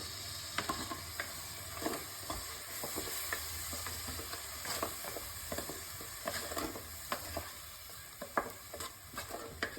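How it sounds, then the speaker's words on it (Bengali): A spice masala with coriander powder and salt fries in oil while being stirred, a soft continuous sizzle broken by irregular scraping strokes of a spoon against the pan, fairly quiet and with no talking. "আর পরিমাণ মতো নুন দিয়ে মশলাটা ভালো করে কষিয়ে নেব।"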